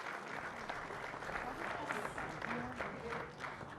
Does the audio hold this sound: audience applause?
yes